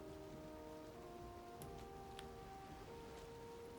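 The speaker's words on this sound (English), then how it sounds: "And it's raining also." Steady light rain falls in the Valheim game world, a soft continuous patter with a few faint ticks above it, heard under a low droning game score and no voices.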